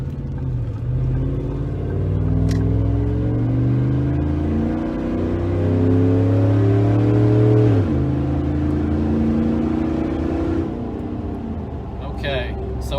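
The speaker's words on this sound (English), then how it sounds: "let's do an acceleration run here" A Ford F-150 pickup truck accelerates hard on asphalt, its engine droning and climbing in pitch, dropping briefly at a gear shift around the middle before rising again, loud and close from inside the cab.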